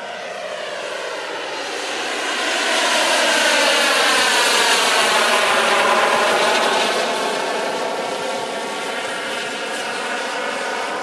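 A turbine-powered RC model helicopter, an Agusta A119, flies with a loud, steady jet-like whine and rotor hum that swells as it passes closer mid-clip, then eases off slightly, with no talking.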